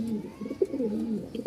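Lahori pigeons from Rajshahi coo in soft, repeated low murmurs, several birds overlapping close by with a steady throaty rhythm and no talk.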